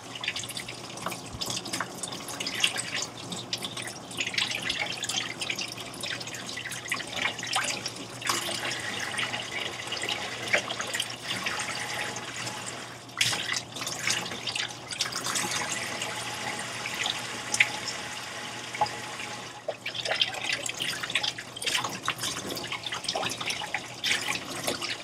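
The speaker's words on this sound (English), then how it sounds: "turn it this way and rinse the water flowing over it like this" Tap water running steadily over makeup brushes being rinsed under a faucet, a continuous splashing flow with small shifts as the bristles are turned under the stream.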